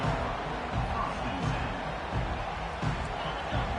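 Large stadium crowd at a Wisconsin vs Michigan college football game roars steadily, a dense continuous cheer with occasional surges and no break.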